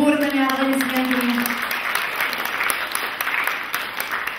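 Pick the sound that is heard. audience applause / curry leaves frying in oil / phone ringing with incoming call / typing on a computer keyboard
audience applause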